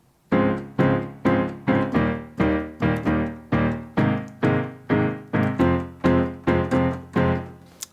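Piano plays the accompaniment chords of a song at full speed: steady, evenly spaced repeated chord strikes, about two per second, loud and close, with no talking.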